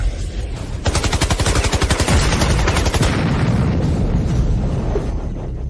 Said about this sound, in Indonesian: Tembakan meriam Italia.